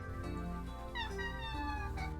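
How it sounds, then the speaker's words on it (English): A house cat meows repeatedly at a door, with a string of close, fairly loud meows over a steady, busy background. "You were meowing at my door the entire time."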